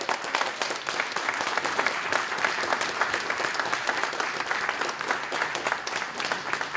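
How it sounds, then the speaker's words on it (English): Sustained audience applause at a 50th anniversary community ribbon cutting ceremony, dense steady clapping from a crowd that stays loud and even throughout without fading. "Please join me in giving him a huge round of applause."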